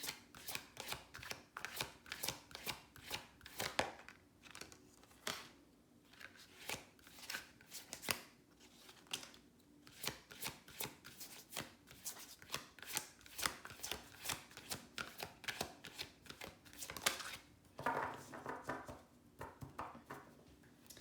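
Tarot cards being shuffled by hand, quiet and close, in rapid bursts of crisp riffling flutters separated by short pauses, continuing steadily throughout.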